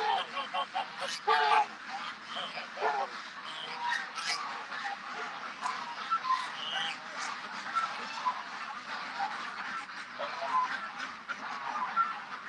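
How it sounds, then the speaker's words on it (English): A large crowd of ducks rushing out of their pen quacks continuously, a dense, busy chorus of overlapping calls, near and fairly loud throughout. "Yeah, that's a mess of ducks"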